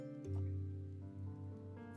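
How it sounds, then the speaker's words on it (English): Rain falls steadily in the video game Final Fantasy XIV, a soft patter blended under sustained, tonal game music. "It's raining."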